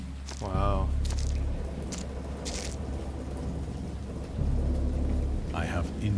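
Thunder rumbles in the horror video game Dagon, a low, heavy roll with loud swells at the start and end, mixed with rain-like hiss and a few brief vocal sounds.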